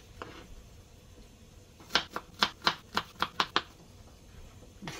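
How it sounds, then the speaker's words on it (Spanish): A knife chops onion and tomatoes on a cutting board, about nine crisp, evenly spaced taps in a quick rhythm, close and clear over a quiet kitchen background. "aquí estamos partiendo la cebolla y los tomates"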